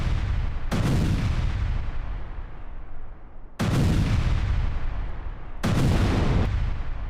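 Explosive blasts from a Ukrainian rocket strike destroying a Russian Grad multiple rocket launcher, news footage: three loud booming impacts with long rumbling decays, spaced a few seconds apart, with no talk.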